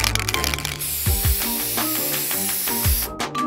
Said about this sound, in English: Spraying down the bottle.